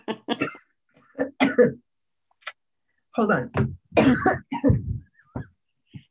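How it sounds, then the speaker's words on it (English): A person coughs and clears their throat several times in short bursts, close and fairly loud, with brief speech between the coughs. "Lots of coughing."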